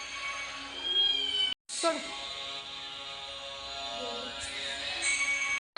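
A cat meows a few times in an outdoor rural setting, moderately close, between quieter stretches with brief gaps; people are talking nearby.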